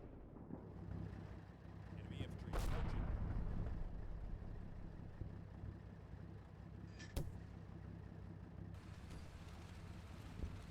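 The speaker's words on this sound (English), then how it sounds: "Mortar." Mortar fire in the WWII tactical video game Combat Mission Final Blitzkrieg: two sharp, distant blasts a few seconds apart, the first followed by a brief rumble, over a steady wind-like battlefield ambience.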